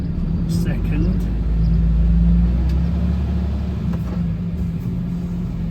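Hiab rigid truck with a manual 16-speed gearbox pulling up a hill in second gear, its engine a steady, loud low rumble that swells slightly mid-way, with a voice talking over it.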